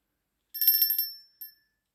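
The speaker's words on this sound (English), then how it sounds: "Then we have, I think there's some bells." A plain little bell from a witch casket unboxing gives a quick jingle of bright, high metallic rings that fade, then one faint short tinkle, close by with no talking.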